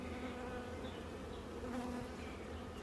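Honey bees hum in a dense, continuous buzz around a hive in a bee yard, soft and fairly distant, with no talking.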